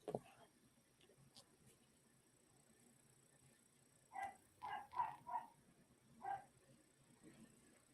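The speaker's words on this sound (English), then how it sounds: "There goes my dog barking at the neighbors' kids, riding their little bikes and stuff." A small chihuahua barks a few times at a distance, short sharp yaps in a quick cluster, faint against a quiet indoor room.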